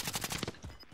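A rapid burst of gunfire in a squad-based battle royale shooter, quick repeated shots in a tight automatic rhythm, fairly faint and short, with no voices over it.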